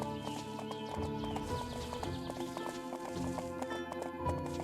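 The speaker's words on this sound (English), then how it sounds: "Horse galloping and whatnot also." A horse gallops with quick, regular clip-clop hoofbeats in the fantasy video game The Emperor's Own, moving through a forest. A whinny breaks in partway, and a musical score plays close beneath the hooves.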